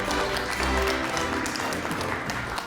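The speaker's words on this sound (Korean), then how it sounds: "이럴 때는 박수도 쳐 괜찮아요" An audience at a chef's talk applauds in a dense, moderately loud patter that holds steady throughout, with some low murmur beneath.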